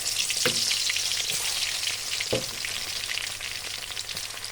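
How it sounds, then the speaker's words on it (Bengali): Garlic cloves fry in hot oil for a pickle, giving a continuous bright sizzle with a few soft knocks of stirring and no voices. "তেল গরম হয়ে আসছে, আমি রসুনগুলো দিয়ে দিলাম।"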